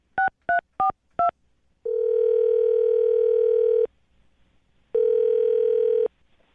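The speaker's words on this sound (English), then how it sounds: "I'm going to dial his phone number right now" Four short touch-tone beeps of a phone number being dialed, followed by two long steady ringback tones separated by a pause, loud and clear with no talking.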